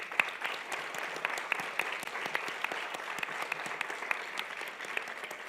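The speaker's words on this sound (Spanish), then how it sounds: "capaz que los trabajadores se merecen un aplauso" Audience applauding at an international disability congress, a sustained steady patter of many hands clapping at moderate loudness throughout, with no talk over it.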